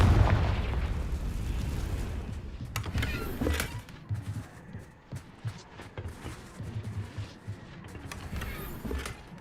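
A Confringo spell blast in Hogwarts Legacy goes off with a loud, booming burst, followed by a string of smaller pops and crackling impacts that fade and flare across the stretch.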